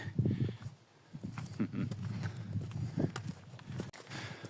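A pony's hooves clip-clop at a steady walking pace, fairly close but soft, with faint background noise throughout.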